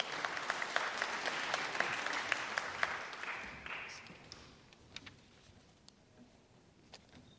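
An audience at a sponsor launch in the State Library of Victoria applauds as a CEO takes the stage, a dense burst of clapping with sharp individual claps that thins and fades out over several seconds.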